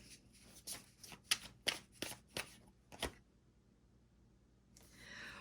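Tarot cards being shuffled and drawn from the deck, a close run of crisp riffling snaps and flicks, then a pause and a soft sliding card sound at the end.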